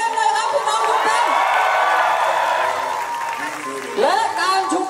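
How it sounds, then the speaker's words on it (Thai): A protest crowd at a flash mob rally in Khon Kaen claps and cheers in a sustained wave of applause with whoops, loud and close, while someone speaks over it through a loudspeaker. "ขอเสียงปรบมือให้กับตัวเองเลยครับพี่น้องทุกท่าน"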